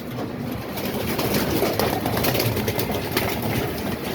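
Pigeons coo softly amid a dense, continuous mechanical whir, with fluttery bursts of sound rising and falling throughout.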